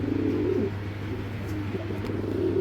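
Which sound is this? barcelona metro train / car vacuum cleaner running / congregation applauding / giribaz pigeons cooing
giribaz pigeons cooing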